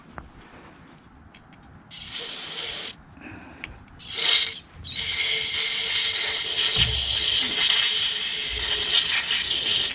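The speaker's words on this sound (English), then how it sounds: "I'm going to take some carb spray and just spray it into that hole." Carburetor cleaner aerosol hisses in short bursts into a Honda Harmony HS520 snowblower that won't start, then a long continuous loud hiss at close range, with faint mechanical clicks underneath.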